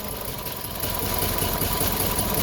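A 2004 Nissan Altima with the 2.5 engine idles with a cylinder misfire, giving a steady, close, low rumbling drone that holds evenly for the whole stretch.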